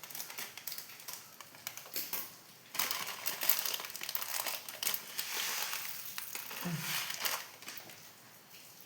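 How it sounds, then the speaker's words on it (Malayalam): Mustard seeds spluttering in hot coconut oil, a dense, fast crackling and popping that grows stronger partway through, close and fairly quiet, with a brief bit of speech near the end. "വെളിച്ചെണ്ണ കാഞ്ഞാൽ നമുക്ക് കടുക് അതിലേക്ക് ഇട്ട് കൊടുക്കാം"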